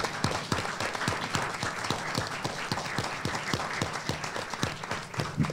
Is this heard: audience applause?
yes